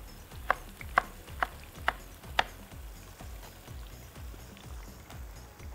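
Knife chopping carrots on a cutting board in a kitchen, five crisp evenly spaced chops followed by softer steady thuds continuing at the same rhythm, close and clear with no talking.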